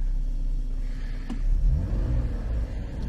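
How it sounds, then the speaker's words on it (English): A car engine idles with a low rumble, then rises in a brief rev before settling back, heard up close with no talking. "Rev the engine up a little bit"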